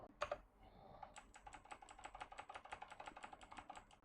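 Fingers type steadily on a XUNFOX K95 mechanical gaming keyboard connected over Bluetooth 5.1, producing a quick, even run of quiet clicking keystrokes.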